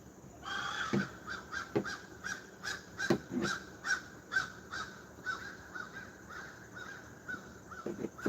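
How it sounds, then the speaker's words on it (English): Crows caw steadily in a rhythmic series of harsh calls, moderately distant and clear, with many birds gathered around trees outdoors. "Crows be going crazy here."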